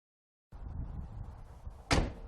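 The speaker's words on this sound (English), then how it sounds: "That's the way I'd want the door to shut on my Fox body." A Fox body car door with new weatherstripping swings shut in one solid, loud thunk after a short stretch of quiet handling noise, with no talk.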